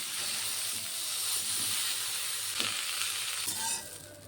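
Cauliflower pieces fry in hot oil with turmeric and salt in a kadai, giving a steady close sizzle and hiss with light stirring scrapes throughout, quieter near the end.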